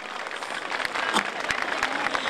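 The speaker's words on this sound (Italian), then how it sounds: "un applausone!" A crowd at an evening political rally in Reggio Calabria breaks into applause, dense clapping that swells and carries on steadily, close and loud, with some voices mixed in.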